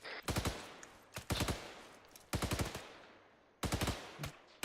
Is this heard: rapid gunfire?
yes